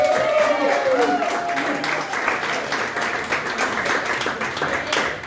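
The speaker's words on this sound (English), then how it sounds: "Please, clap your hands, stomp your feet, make a bunch of noise for Bruce Detour." Applause and cheering from a comedy club audience welcoming comedian Bruce Detour, a dense steady wash of clapping with a few whoops near the start, sustained throughout.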